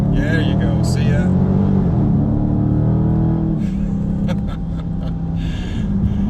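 A 2020 Dodge Charger Scat Pack Widebody's 392 V8 pulls hard under acceleration, a loud, deep rumbling roar that rises in pitch and then settles into a heavy drone, with voices talking over it.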